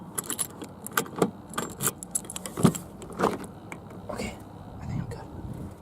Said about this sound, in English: Got the keys for it.